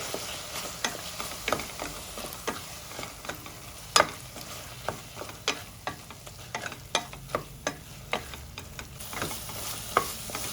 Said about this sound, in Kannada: ರುಬ್ಬಿರೋಂಥ ಮಸಾಲ ಇದ್ದೀನಿ ಕಾಯಿ ಮಸಾಲ ಹಸಿ ವಾಸನೆ ಹೋಗೋರ್ಗು ಉಟ್ಕೊಳ್ಬೇಕು